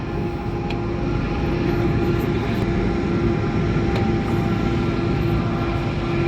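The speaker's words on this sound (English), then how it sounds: "Train is very loud." A loud, steady low rumble fills the whole stretch, like a heavy train rolling past close by, with a constant droning hum and no pauses.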